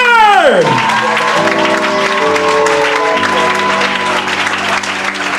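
A church congregation at a Sunday worship service breaks into loud, sustained applause and cheering, filling the hall, with music tones sounding alongside.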